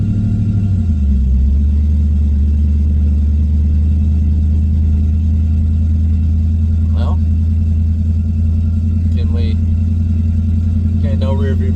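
An LS-swapped Chevrolet Monte Carlo engine idles while warming up, with a steady, loud, deep rumble that settles to a lower pitch in the first second, and a few brief faint sounds heard over it.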